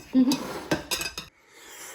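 Dishes, pots and cutlery clatter after a home-cooked meal, with a few loud close knocks and clinks over about a second before it falls quiet.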